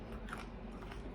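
Someone bites into crunchy burnt tempeh, a close, quiet crackling crunch with a few brittle snaps in quick succession.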